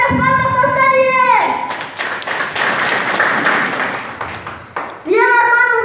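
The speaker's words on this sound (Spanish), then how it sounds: "Fuertes palmas al que vive" A church congregation applauds a child preacher at an IEPJ service in Buenos Aires: a dense burst of clapping lasting several seconds, framed by a speaking voice just before and after.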